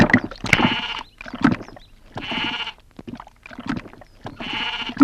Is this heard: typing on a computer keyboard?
no